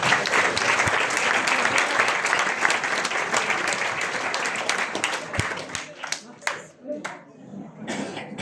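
An audience at a live show in Saint-Léonard-des-Bois applauds loudly and continuously, the dense clapping thinning toward the end into scattered claps with voices coming through.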